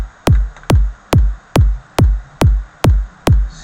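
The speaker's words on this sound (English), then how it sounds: "And we now have 8-bar loop of kicks." Eight punchy psytrance kick drum hits repeat at a steady, even tempo, each a sharp attack sweeping down into a deep, fat low thump, loud and alone with no other instruments.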